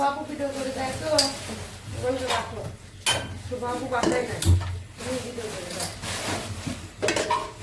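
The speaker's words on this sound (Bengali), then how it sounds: "এখন দিচ্ছি পেঁয়াজ আর কাঁচা মরিচ" Onion and green chilies tipped into a frying pan for a desi koi fish and bottle gourd curry, then stirred, giving scraping utensil clatter and soft sizzle close by, with a voice talking throughout.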